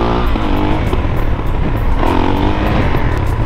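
A Suzuki DR-Z supermoto engine revs loudly and close by, its pitch rising and falling in repeated throttle bursts over a steady mechanical drone.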